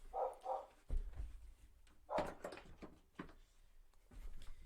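A dog barks in short bursts, a few sharp woofs spaced out over several seconds, somewhat muffled as if from another room.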